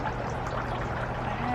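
Water poured into a container to hold a plant cutting, a steady close trickling pour with a faint rising tone as the vessel fills.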